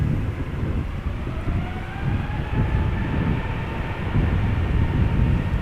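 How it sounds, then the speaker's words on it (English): A China Airlines Airbus A350 departs Schiphol, its jet roar a broad, steady rumble heard from a distance, with a rising whine threading above it and no voices. "We don't want to miss the departure of the first A350 of the stream."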